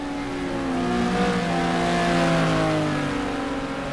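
GT race cars in a sim racing game at Spa roar past with sustained engine tones, their pitch sliding as they accelerate, loud and continuous with no talk.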